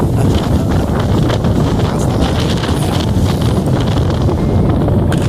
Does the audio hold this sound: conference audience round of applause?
no